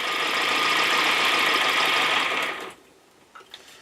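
A scratch-built Gauge 1 live steam model locomotive runs with a loud, steady mechanical buzz close by, then cuts off abruptly, leaving a few faint clicks.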